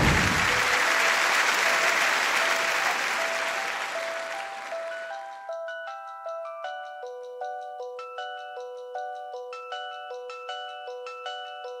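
A studio audience at a Turkish music television show applauds loudly, and the clapping fades out over several seconds before a series of bright, chiming tones rings alone.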